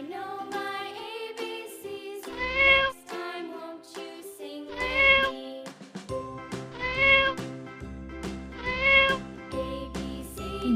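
A cat meows four times in a steady, evenly spaced rhythm, each call sung out over a bright, cheerful melody with a tinkling accompaniment.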